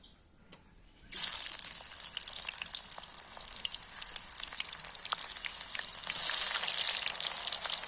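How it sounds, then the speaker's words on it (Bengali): Onions dropped into hot oil burst into a loud, close, steady sizzle after a quiet start, crackling continuously and swelling slightly near the end, with no talk. "তেলটা গরম হয়ে গেছে আমি এবার পেঁয়াজগুলো দিয়ে দেবো"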